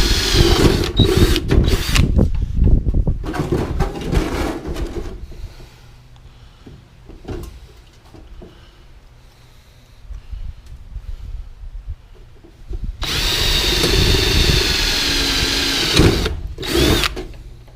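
Power drill with a drill bit under pressure during a converter upgrade, whirring loudly in bursts at the start, dropping to quieter handling sounds, then a long loud run near the end.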